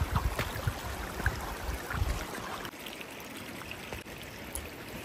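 Shallow mountain creek flowing over rocks on a forest trail, a steady close rushing and trickling wash with no talk.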